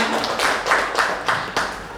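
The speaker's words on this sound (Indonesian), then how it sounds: "kita beri tepuk tangan untuk kita semua" Audience at a school good-practice sharing session claps, a sparse group of hands with distinct rhythmic bursts, fairly close, with a voice faintly underneath.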